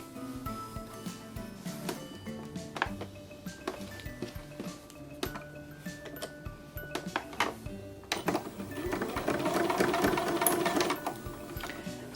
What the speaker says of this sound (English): So I've lined the right hand line on my sewing machine, and I'm going to be sewing down this side.